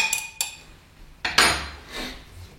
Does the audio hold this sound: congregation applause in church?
no